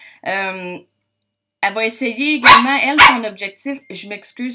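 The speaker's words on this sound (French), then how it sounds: "ça c'est mon chien, c'est inévitable." A pet dog barks twice in quick succession, loud and close, indoors while someone speaks French, her talk interrupted and then continuing over the barks.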